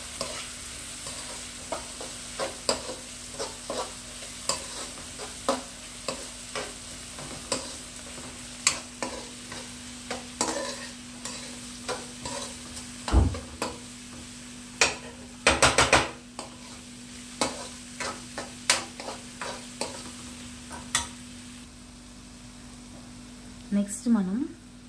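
Leftover ridge gourd and capsicum curry fries in a pan for upma, with a steady sizzle under repeated sharp scrapes and clinks of a spoon stirring against the metal, and occasional louder knocks.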